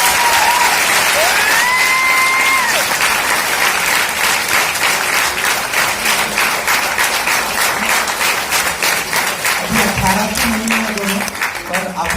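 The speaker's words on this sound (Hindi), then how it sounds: "तालियों के साथ एक बार वेलकम करेंगे" Seminar crowd in a Delhi auditorium applauding in welcome, loud sustained clapping with a couple of whistles early and voices rising near the end.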